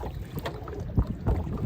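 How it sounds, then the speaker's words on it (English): Oars working a small rowboat against a headwind on open water, with steady wind buffeting the microphone and a few louder dips of the blades splashing close by. "we're not actually making that much headway because I'm rowing into the wind"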